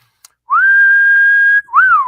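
A clear, sustained human whistle holding one steady pitch for about a second, followed by a short rising-then-falling whistled note, close and loud.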